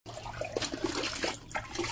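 Water poured from a container into a basin set out for cattle to drink during a drought, splashing and trickling steadily at close range for about two seconds with no talk over it.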